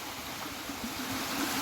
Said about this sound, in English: ये देखिए दूसरा वाटरफॉल है।